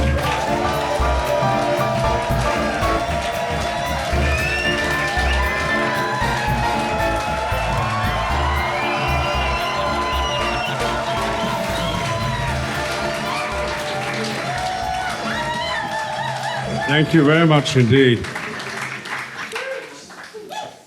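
Live theatre audience at a podcast recording with a guest cheers and applauds loudly and steadily for most of the stretch, the noise thinning near the end as someone speaks briefly.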